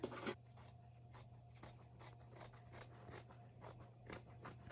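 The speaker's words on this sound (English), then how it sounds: "I'm going to cut a piece that's big enough to go over the word" Scissors snip through fusible embroidery stabilizer in a quick series of close, crisp cuts over a steady low hum, with no talking.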